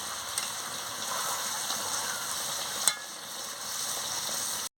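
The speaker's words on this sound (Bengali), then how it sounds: "জলটা দিয়ে ভালো করে নাড়িয়ে নিচ্ছি।" Chicken curry with potatoes simmers and sizzles in a pan just after water is added, with a steady bubbling hiss, scraping stirs and one sharp clink of the spoon against the pan.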